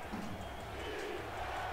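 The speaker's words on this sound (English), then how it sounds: "Crowd here in Tulsa on their feet, cheering for their defense to make a stop" A football stadium crowd in Tulsa cheers for the home defense during a quarterfinal game against Houston, a steady, dense roar that holds level throughout with no single voice standing out.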